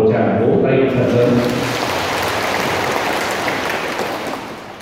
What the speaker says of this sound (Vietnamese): chúc mừng ngày bế mạc tuần trầu của giáo xứ Thượng Triều hôm nay bằng một tràng vỗ tay thật lớn